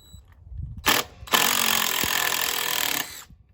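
Cordless impact driver, a Dewalt or Ryobi, backing a screw out: a short rattling burst, a pause, then a longer sustained hammering whir of about two seconds that stops abruptly, close and loud.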